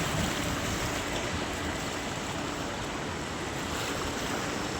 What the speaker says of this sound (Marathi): पाणी किती स्पीडले वाहत आहे बघू शकता तुम्ही